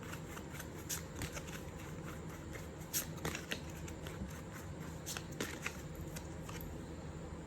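A deck of tarot cards is shuffled close by, giving a quiet continuous papery rustle with light slaps and flicks spaced irregularly over a few seconds, with no voices.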